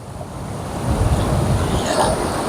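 Sea waves wash in with a low, swelling roar on a Konkan beach at Shrivardhan, Maharashtra, mixed with wind rumbling against the microphone.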